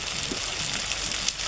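Onion and chopped tomato fry in a pan for a river fish curry, giving a steady, close hiss of sizzling oil that holds evenly throughout, with faint crackles and no talk.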